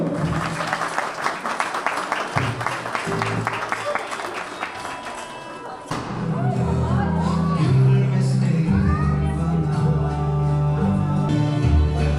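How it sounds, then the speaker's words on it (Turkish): Loud, sustained applause from a crowd at an engagement ceremony, with dense clapping that swells and continues over background music. "o alkışlarınız devam etsin"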